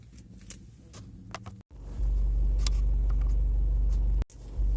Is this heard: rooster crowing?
no